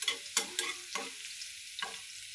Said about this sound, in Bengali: শুধু রসুন দিয়ে বাগার দেবো।